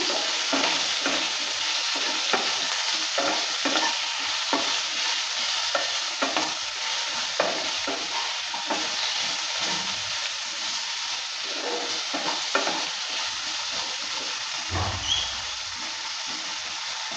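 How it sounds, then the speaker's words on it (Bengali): Banana flower with salt and turmeric being stirred in a frying pan: a continuous loud sizzle with repeated scraping strokes of the spatula, close and steady, no talking. "লবণ হলুদটা দেওয়ার পর ভালো করে আবারও নেড়ে চেড়ে নিচ্ছে"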